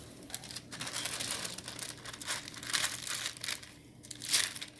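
Wax paper crinkling and crumpling up close while butter is rewrapped, a steady papery rustle with louder crackly bursts near the end and no talk.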